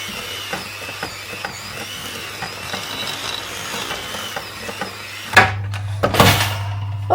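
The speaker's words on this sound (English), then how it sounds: "cheat here and use the mixer." An electric mixer beats coconut and jam cake batter, a steady whirring drone with faint rhythmic clicks, growing louder and harsher with scraping bursts toward the end.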